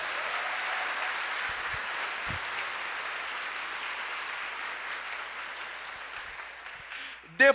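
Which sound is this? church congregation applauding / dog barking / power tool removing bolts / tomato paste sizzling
church congregation applauding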